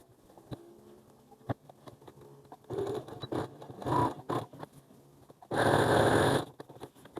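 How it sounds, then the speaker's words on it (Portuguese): A sewing machine stitches a seam joining the right side of a long skirt to the fly facing. Two short bursts of stitching come after a few soft clicks and handling noises in a quiet room. "Direito da saia com direito da vista. E vou passar uma costura."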